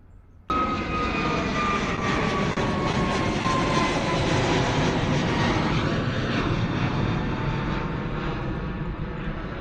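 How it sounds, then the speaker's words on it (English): An Airbus A321neo airliner departs Bristol Airport, its engine roar cutting in suddenly and holding loud and steady, with a slowly drifting whine over broad rumble. "Gorgeous departure from the 321neo"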